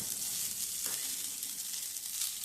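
Tamarind rice reheating in a hot pan gives a steady, close hiss of sizzling, with one brief stir or scrape partway through and no voices.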